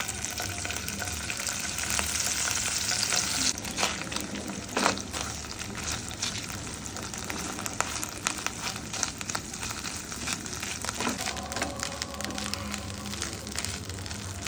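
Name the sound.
frying dried fish (shutki)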